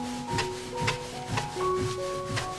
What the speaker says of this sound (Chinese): 我取一个小剂子，往下面给它擀成皮儿。